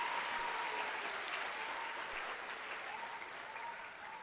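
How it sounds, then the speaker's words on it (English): Audience applause at a University of Pretoria information session for Grade 9 learners and parents, a steady, dense wash of clapping from a large crowd that holds evenly and eases slightly toward the end. "Can we just give them a round of applause?"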